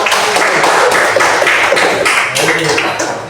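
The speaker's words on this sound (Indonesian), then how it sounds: "Tepuk tangan lo." A classroom group claps hands in a dense, continuous patter of many overlapping claps that stays fairly loud throughout, with voices mixed in.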